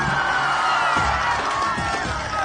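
Large political rally crowd in a dense wash of cheering and shouting, with loud whoops and voices rising over steady noise throughout, clapping blended into the roar.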